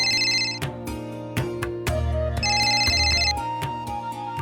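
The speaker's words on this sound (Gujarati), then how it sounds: "કુમારભાઈનો ફોન હતો?" A mobile phone ringtone plays loudly for an incoming call in a Gujarati TV drama scene: a repeating electronic melody with bright, clipped tones in short phrases.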